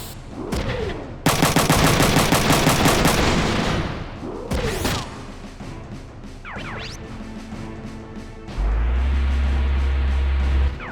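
Cannon blasts and gunfire from mech combat in the video game Front Mission 3: loud bursts of rapid fire and heavy crashing impacts, several booms, then a steady low rumbling drone near the end.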